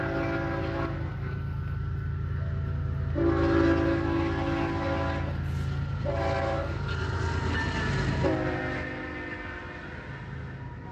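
A train passes outdoors with birds around, its horn sounding in several long, loud blasts over a steady rumble of the cars.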